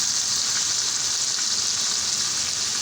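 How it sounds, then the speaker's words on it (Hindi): Mutton fries in a pan with a steady, dense, loud sizzle that holds unbroken throughout, close up and with no talk. "इसको भूनते हैं।"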